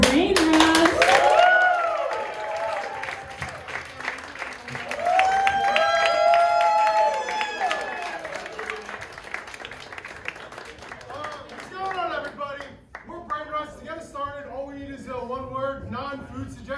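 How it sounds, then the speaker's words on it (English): An audience claps for an improv comedy group at a tavern show, with applause building and fading across the clip while voices and cheers rise over it and speech carries on near the end. "everybody, clap your hands for Brain Rust"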